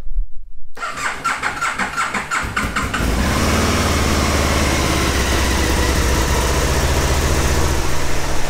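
An Aprilia Caponord motorcycle engine cranks over with a rapid starter whir for a couple of seconds, catches, and settles into a loud, steady close idle.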